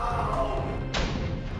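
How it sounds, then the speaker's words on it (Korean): A watermelon squeezed by many tightly wrapped rubber bands bursts open with a sudden sharp crack and thud, a single loud break standing out against ongoing voices and background noise. "마치 수박이 폭발하듯 터져버립니다"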